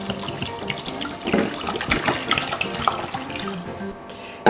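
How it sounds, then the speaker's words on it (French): Water running and splashing into a pot as one litre is poured in for homemade ivy or Marseille soap laundry detergent, a steady irregular gushing that stays fairly loud throughout with no talk. "on ajoute 1 litre d'eau."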